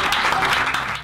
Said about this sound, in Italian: Un applauso a Giuseppe.